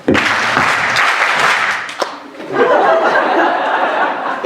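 A theatre audience bursts into applause with scattered laughter during a card-trick act in a stage show, a dense, steady clapping that dips briefly midway and then swells back, filling the room.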